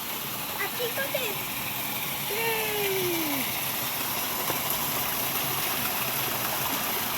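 Steady rushing of a flowing stream near a waterfall fills the whole stretch, with a voice briefly heard over it partway through.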